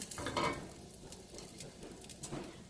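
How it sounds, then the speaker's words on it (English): Pancake batter going into a preheated pan sizzles and crackles softly, with a few brighter bursts of spitting and light scraping over a low, steady hiss, close by with no talking. "placing my pancakes right in the pan."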